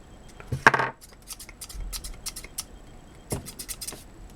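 Snipping scissors treated with speedcube lubricant: one sharp metallic clack, then a run of light, rapid clicks and scrapes as the blades open and close, close by and fairly quiet.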